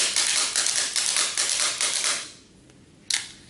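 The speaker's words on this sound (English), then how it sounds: "So obviously I need to shake the clapper." Small toy clapper shaken by hand, a rapid string of sharp rattling clacks in quick rhythm, close and bright, stopping briefly before one last crisp clack.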